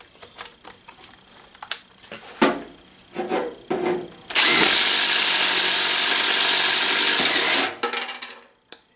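A Milwaukee Shockwave thin wall 1 inch hole saw on a drill cuts through 1/8 inch steel: scattered handling clicks and knocks, then a loud, steady, grinding cut for about three seconds before tapering into a few clatters.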